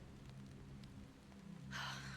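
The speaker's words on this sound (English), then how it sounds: "Because it's raining? Disgusting weather." Rain falling in the HollowBody video game, a steady soft hiss over a low hum that swells louder near the end, with no talk.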